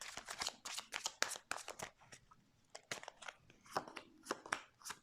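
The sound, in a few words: tarot cards being handled and laid out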